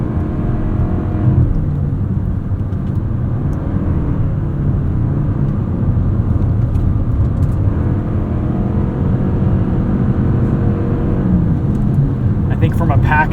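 Cabin of a 2025 Toyota Crown Signia SUV on the move, with a constant low rumble of road and engine noise under a voice talking throughout.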